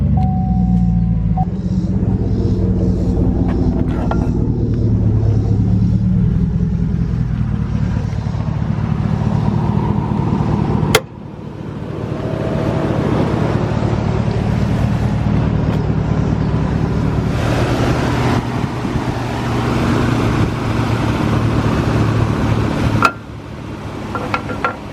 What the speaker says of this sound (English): I'm gonna actually crank the truck up